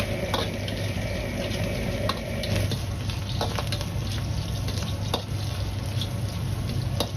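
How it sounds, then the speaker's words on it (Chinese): Sliced pork belly stir-frying in a wok of hot vegetable oil: a constant close sizzle with repeated scraping strokes from the spatula. "接着锅中再次放入少许的植物油，油热后下入切好的五花肉翻炒"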